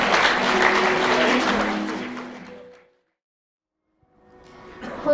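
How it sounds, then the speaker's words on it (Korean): Wedding guests at a hotel ceremony applaud during the ring exchange, a loud burst of clapping that fades into silence, then resumes faintly with murmuring. "네, 큰 박수 부탁드리도록 하겠습니다."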